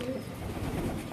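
Domestic pigeons cooing close by during their moulting season, a low continuous burbling coo that fills the short moment, with faint background noise and no speech.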